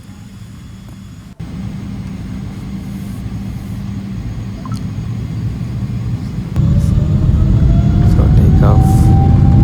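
An Emirates Boeing 777-300 on its takeoff roll from Dubai, jet engines giving a steady, loud rumble that swells sharply toward the end, heard from inside the cabin with a brief spoken word.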